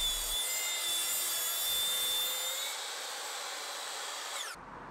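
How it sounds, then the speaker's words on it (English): A track saw cuts through wooden tabletop boards for a garden table, a loud, continuous whining buzz of blade in wood held close for several seconds before the cut ends and the motor winds down, with no talking. "I can use the track saw to trim the end square and get the tabletop to its final length."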